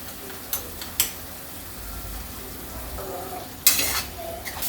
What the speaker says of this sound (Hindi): मसाले को अच्छी तरह चलाते हुए हम भूनेंगे।